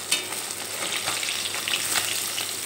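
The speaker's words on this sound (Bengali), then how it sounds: "প্রথম ব্যাচে ভাজার জন্য সবগুলো মাছ আমি কড়াইতে দিয়ে দিয়েছি।" Bhola fish frying in oil in a wok, a close, steady bubbling sizzle with crackling spatters that swell and ease over a few seconds.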